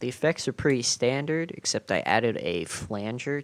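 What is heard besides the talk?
No everyday noises stand out.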